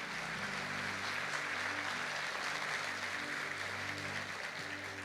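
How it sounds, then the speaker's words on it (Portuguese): A church congregation applauds in a steady, even wash of clapping that holds for about five seconds, fairly distant and soft, with a faint low hum beneath it. "Você pode dar um aplauso a Ele?"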